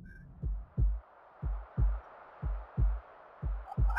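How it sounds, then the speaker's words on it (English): Slow, steady heartbeat from the video game Godus, paired low thumps repeating about every second, clear and alone against a soft background hiss. "I have a heartbeat."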